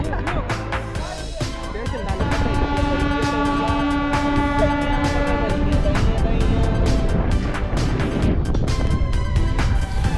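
A local passenger train pulls away from Vellore Cantonment station in India, a steady loud rumble of wheels and carriages with a horn toot, heard up close from on board.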